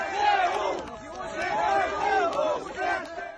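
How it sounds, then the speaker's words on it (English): A crowd in Kherson chants ZSU for the Ukrainian Armed Forces, many voices repeating the slogan in a steady rhythm. "The chant, ZSU, Ukrainian Armed Forces, over and over again."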